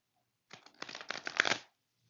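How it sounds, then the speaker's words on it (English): A deck of wide tarot cards being shuffled: one quick riffle of fluttering card clicks lasting about a second, close and soft, with quiet before and after. "It's just harder to shuffle these."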